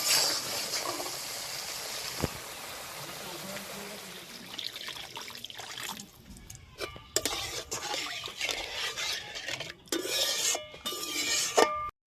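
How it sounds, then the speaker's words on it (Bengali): Water poured into sizzling mustard-paste masala in a pan for a Bengali Bhola fish curry, a broad hissing splash and trickle that gives way to intermittent clinks and stirring noises. "এবার জল দিয়ে দেব।"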